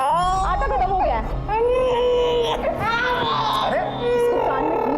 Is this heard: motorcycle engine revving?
no